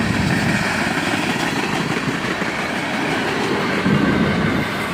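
A CSX freight train rumbles steadily past close by, a dense continuous roar of wheels and cars with faint rhythmic clatter throughout.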